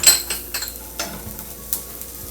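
Sesame and poppy seeds tumble into coconut roasting in a pan, giving a few soft, scattered scrapes and faint crackling sizzles, close and fairly quiet.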